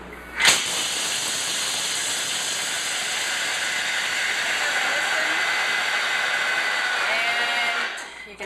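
A Thermomix blends 250 grams of almonds at speed 7, a loud, steady whirring roar with a gritty hiss that starts abruptly and holds evenly for about eight seconds before cutting off.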